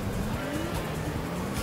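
Rally car in the PlayStation game Tommi Makinen Rally sliding into a corner: a continuous engine drone with squealing tire skid tones, steady and fairly loud, with no voices.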